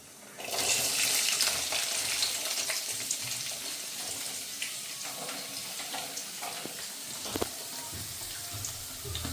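Sliced onions hit hot oil in a pan for Thrissur-style beef curry, bursting into a loud, hissing sizzle that starts abruptly and then settles into a steady crackling fry.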